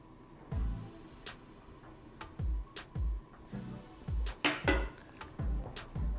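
Repeated clinks and scrapes of a utensil working a cheesy bread mixture in a bowl, in irregular bursts of knocks close up, with no talking.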